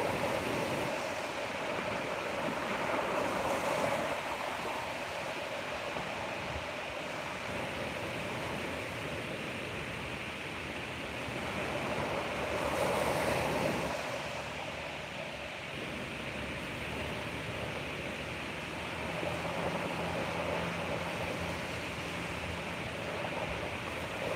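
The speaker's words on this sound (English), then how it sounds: "soak in these colors and the sounds of these waves for 1 more minute" Continuous wash of ocean waves on a beach, rising and falling in slow, gentle swells with no voices.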